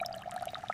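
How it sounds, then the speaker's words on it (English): Acetic acid liquid is poured into a baking soda volcano, giving a brief, steady trickling pour of under a second at close range. "I am now adding the liquid reactant slowly into the main central reaction chamber."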